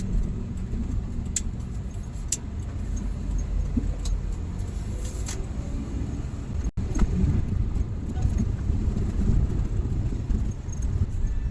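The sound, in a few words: Suzuki DA64W non-turbo minivan driving uphill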